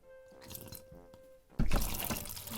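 Water poured into a spray-bottle mix of rubbing alcohol and vinegar for homemade glass cleaner: a quiet stretch, then a sudden loud, steady splashing pour close by.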